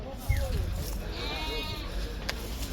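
A young goat kid at the Kyzylorda livestock market gives a short nasal bleat close by, under the steady murmur and chatter of the crowded market with people talking.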